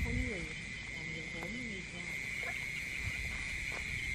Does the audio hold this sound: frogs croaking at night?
yes